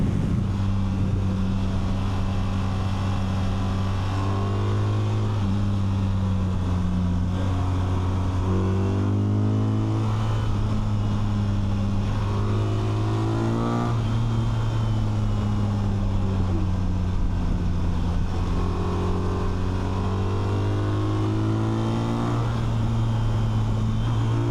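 A BMW R 1300 RT motorcycle engine drones steadily while being ridden hard through corners, its pitch rising and falling with the throttle over constant wind rush, loud and continuous throughout.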